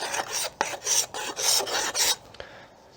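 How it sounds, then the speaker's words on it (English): A hand scraper rasps along a yew wood self bow in a series of short, close, dry scraping strokes, several quick passes, with no talking. "got crud on my scraper. And clean it up so it's nice and smooth."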